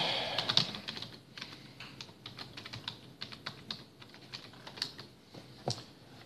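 Rapid keystrokes on a computer keyboard as login details are typed, an irregular run of close, crisp clicks with short pauses and no talking.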